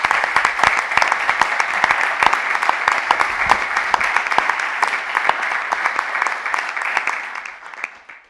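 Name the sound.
audience applause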